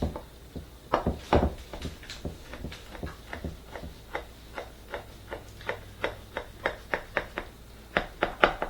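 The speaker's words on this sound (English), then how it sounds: "The first thing you want to do is just cut it vertically down the center." A sharp knife cuts down through the layered pastry of baklava in a pan, giving a rapid series of crisp, close crackling taps in a fairly even rhythm, with no talk.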